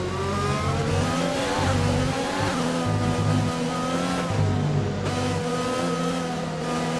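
Race car engines in an F1 racing video game, several high-pitched engines howling and shifting through revs together, loud and continuous with rising and falling gear changes.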